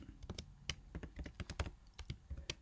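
Quick bursts of keystrokes on a computer keyboard while entering a spreadsheet formula in Google Sheets, close and clear with irregular rhythm and no talking.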